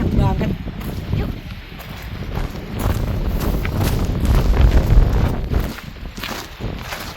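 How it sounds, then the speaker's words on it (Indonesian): Strong wind buffets the microphone with a loud, continuous roar on the Mount Fuji hiking trail above station 6, with footsteps and faint voices mixed into the rush. "angin kencang banget"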